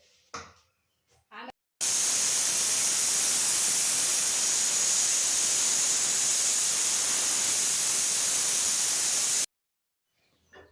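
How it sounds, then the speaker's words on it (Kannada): A pressure cooker cooking country chicken biryani lets out a loud, steady steam hiss for several seconds, starting and stopping abruptly, with short quiet gaps before and after. "ಎರಡು ವಿಸಿಲ್ ಬಂದ್ಬಿಡ್ಲಿ"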